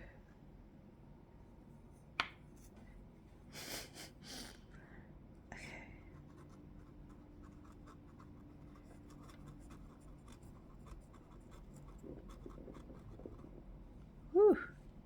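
A dip pen scratching across paper in short, faint strokes with small taps and pauses, close by in a quiet room, a soft voice murmuring now and then.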